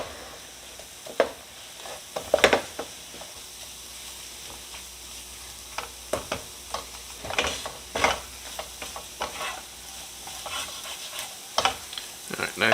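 Flour being stirred into a pan of fat for a chicken pot pie: soft sizzling under irregular scraping strokes of a spoon, quiet and close, with occasional sharper clinks against the pan.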